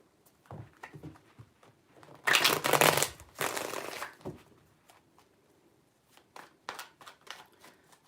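Close riffle of tarot cards being shuffled, a loud dense burst in the middle with lighter taps and flicks before and after.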